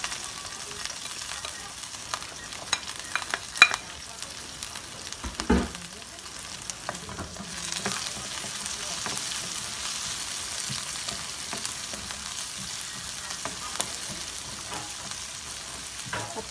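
Chopped onion and green chillies frying in a pan for Punjabi samosa filling, with a steady close sizzle and occasional stirring scrapes running throughout, no talking.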